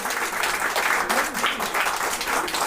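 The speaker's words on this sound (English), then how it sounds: "Please give a huge round of applause." Audience applause at a Bollywood book launch, a sustained wash of many hands clapping at moderate loudness, steady throughout with slight swells.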